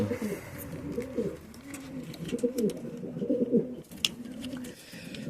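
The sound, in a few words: pigeon cooing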